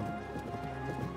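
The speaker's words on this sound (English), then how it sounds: "Wow, this is a golden horse?" A golden horse in the game Zelda: Tears of the Kingdom, its hooves clip-clopping steadily at a trot over a dense layer of game music and ambience.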